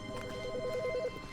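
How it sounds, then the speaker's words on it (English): A telephone rings inside The Stanley Parable video game, a repeating electronic trill of about eight quick tonal pulses, clear and mid-level over a low background hum. "Wait, why is the phone ringing?"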